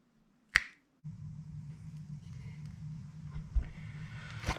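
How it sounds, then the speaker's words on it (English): A single sharp finger snap rings out close and loud near the start during work on a Stihl gas tank gasket, followed by low rumbling handling noise. "I'm going to snap my fingers again"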